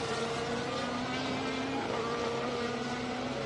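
Formula 1 cars racing at the 2017 Chinese Grand Prix: a continuous high-pitched engine whine that rises and falls slightly, steady and fairly loud, with no clear voices over it.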